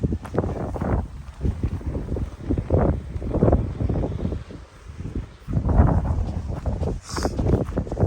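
Gusty wind on a coastal hiking trail in Cape Chignecto Provincial Park, Nova Scotia, buffeting the microphone in uneven surges with rustling and a low roar, rising and easing over several seconds.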